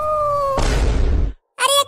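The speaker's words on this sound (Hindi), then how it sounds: "अब ये बिल्ली क्यों चिल्लाने लगी?" A loud cartoon cat yowl, drawn out and then breaking into a harsh, noisy wail, with a brief shrill cry after a short pause.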